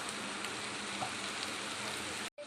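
Grated coconut fries in a pan with cumin and tamarind, giving a soft, even sizzle that ends in a brief cut near the end.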